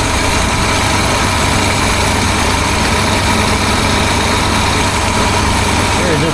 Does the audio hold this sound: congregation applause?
no